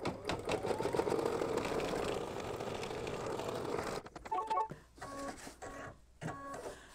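An embroidery machine stitches the batting placement line for an in-the-hoop mug rug: a dense, rapid mechanical whir, then short stop-start bursts of stitching with clicks and brief pauses.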